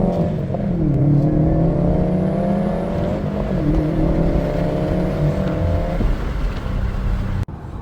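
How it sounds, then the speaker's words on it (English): A 2020 Subaru WRX STI with a manual gearbox out on a test drive, its engine loud and close as the revs climb and drop through several gear changes, a steady rising drone under road noise. "The first thing we're going to do is take it for a test drive before we install it to see the difference."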